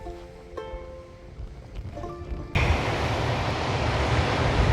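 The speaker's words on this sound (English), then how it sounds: "I just tried to go for a walk on the beach and it is super windy" Faint tonal sounds give way midway to a loud, sudden blast of strong beach wind buffeting the microphone, roaring steadily to the end.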